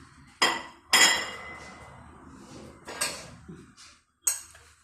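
Plates and glasses being stacked into a kitchen cabinet, a handful of sharp ceramic and glass clinks and knocks with short ringing tails, close and loud with quiet gaps between.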